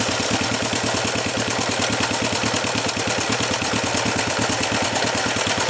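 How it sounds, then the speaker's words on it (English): A 1967 Honda CB450 "Black Bomber" motorcycle engine idles steadily after a cold start, its rapid even exhaust pulses close and loud throughout with no talking. "Alright, starts right up and idles"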